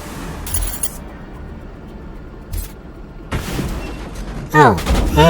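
Gunfire in the video game Mass Effect during a combat encounter: several bursts of shots with sharp, loud blasts near the end, over a steady game soundscape.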